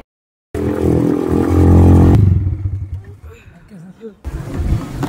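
Motorcycle ride on a desert safari in Pushkar, an engine roaring loudly up close before dropping away to a lower rumble, with people talking.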